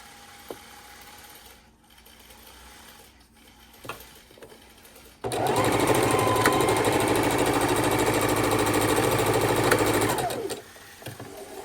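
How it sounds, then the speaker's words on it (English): A sewing machine chain stitching quilt binding pieces, starting abruptly after a quiet stretch of small handling clicks, then running at a fast, steady whir for about five seconds before stopping. "Since we've chain stitched them together"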